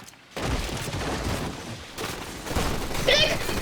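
Bursts of gunfire ring out in a competitive online shooter match, dense rattling volleys that stop briefly and then resume under excited players talking.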